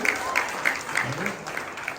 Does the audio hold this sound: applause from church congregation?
yes